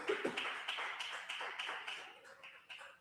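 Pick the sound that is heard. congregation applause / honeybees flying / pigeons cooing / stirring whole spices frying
congregation applause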